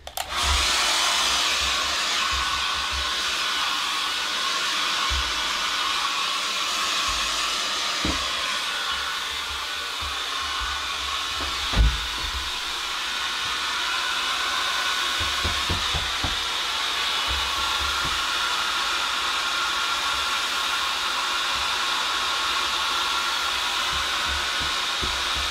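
Hair dryer drying a watercolour painting of an alpine landscape, a loud, steady whooshing roar running continuously, with occasional faint knocks and a brief bump partway through.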